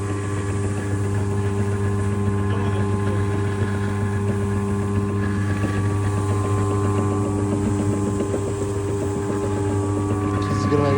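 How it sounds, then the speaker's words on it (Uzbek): The motor of a 350 kg animal feed mixer runs steadily on a farm, a loud, constant droning hum with strong tonal whine that holds unchanged throughout. "Meshalkamiz 350 kiloli yem meshalka bo'ladi."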